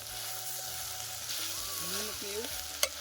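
Chili sizzling in hot oil while kantola (spiny gourd) curry fries in a village-style kitchen, a steady close hiss with faint background voices and a sharp clink near the end.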